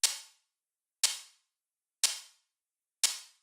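A hi-hat sample built from mouth sounds, with its lows and mids cut and overdrive added, ticks four times at an even one-per-second pace, each hit a sharp, bright, short burst that decays quickly into silence.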